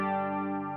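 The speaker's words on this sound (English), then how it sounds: "so the reverb's on and the chorus is on as well." A sustained, steady electric guitar tone through a Marshall MG100FX amplifier, washed in shimmering chorus and heavy reverb, holding evenly with a smooth, lush texture.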